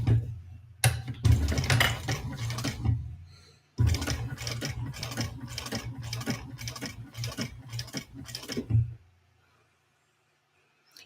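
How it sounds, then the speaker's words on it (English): Sewing machine top stitching bag panels, running in two long bursts of rapid rhythmic needle ticking with a low motor hum, a brief pause between them, then stopping into near silence. "now we're going to top stitch these panels here, these little accents"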